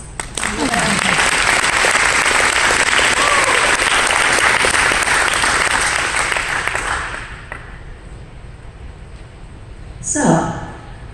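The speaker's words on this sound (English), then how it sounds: "Round of applause, please." Dense audience applause fills a meeting hall at a climate presentation after candidates are introduced, loud and steady for several seconds before thinning out, with a brief raised cheer near the end.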